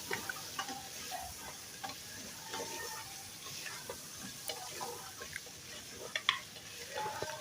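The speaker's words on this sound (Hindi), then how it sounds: "चम्मच चलाते रहेंगे इसमें इस तरीके से।" Mutton trotters frying in oil, a faint continuous sizzle broken by light irregular ticks and scrapes of a spoon being stirred through them, close and fairly quiet.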